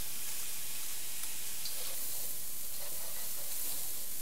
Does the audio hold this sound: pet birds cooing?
no